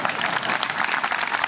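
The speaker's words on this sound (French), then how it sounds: "C'est un bon moment pour applaudir." Theatre audience at a comedy show applauding, a brief burst of dense clapping from a large crowd, steady and fairly loud throughout.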